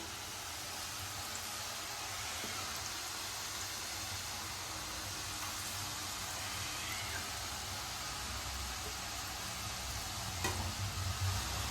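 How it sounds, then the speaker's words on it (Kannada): Chakli dropped one by one into hot oil over a low flame, giving a continuous soft sizzle and bubbling that stays fairly quiet and even, with a few faint clinks near the end. "ಒಂದೊಂದು ಚಕ್ಲಿನೂ ಬಿಟ್ಕೊಂಡು ಬರೋಣ ಎಣ್ಣೆಗೆ"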